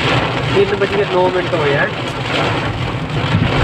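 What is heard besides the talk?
heavy rain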